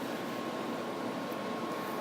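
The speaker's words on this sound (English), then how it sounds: "There's an air conditioner running in here, an ice machine running." Steady broadband hum of an air conditioner and an ice machine running indoors in a room, continuous and even throughout with no voices.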